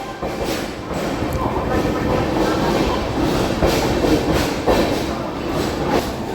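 Inside a Bidar–Machilipatnam passenger train running in reverse direction near Gudivada Junction, a loud, steady rumble of wheels and carriages carries on with faint rhythmic clatter throughout.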